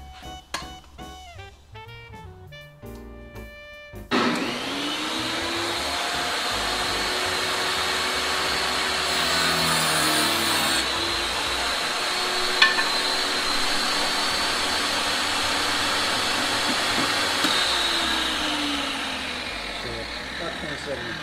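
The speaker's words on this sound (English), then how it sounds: "Now I'm going to go over to the circular saw for that." A circular saw runs while cutting a wooden board for an artist's easel, a loud continuous whining roar that begins after a few seconds of quieter noise and holds steady for most of the clip.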